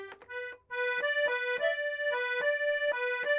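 An accordion plays a melody at beginner level, single notes in a slow, even rhythm with clear reed harmonics, close and steady with no talking.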